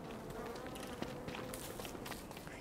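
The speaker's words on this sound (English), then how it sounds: "Yes, I'm near bees." Bees buzz in the video game Don't Starve, a continuous insect drone with light footstep-like taps over it.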